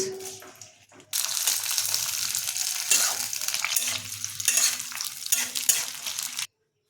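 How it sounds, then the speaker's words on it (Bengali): Cashews and raisins dropped into hot ghee burst into a loud, close sizzle after a brief quiet moment, bubbling and crackling steadily for about five seconds before cutting off abruptly. "ঘিটা গরম হয়ে গেছে এবার আমরা দিয়ে দিচ্ছি কাজু কিশমিশ"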